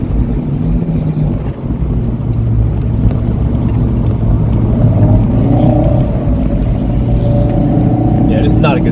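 A Fiat 124 Spider runs on VIR's Patriot Course. The engine drones under heavy wind buffeting, then its pitch climbs as it accelerates hard, while a voice talks over it.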